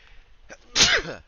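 A single loud sneeze with a quick sharp intake of breath before it, close to the microphone.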